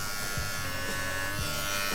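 A Philips BT3241 electric beard trimmer runs close up with a steady, continuous motor buzz, its pitch wavering slightly as it is worked over stubble.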